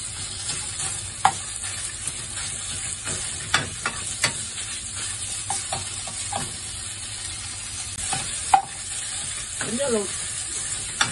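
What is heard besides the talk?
stir-frying minced meat with garlic in a wok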